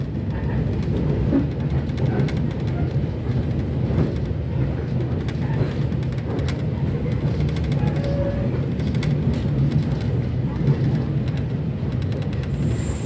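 A passenger train rumbles through the Sasaksaat railway tunnel in Indonesia, a continuous low, heavy roar with faint rattling that holds steady throughout.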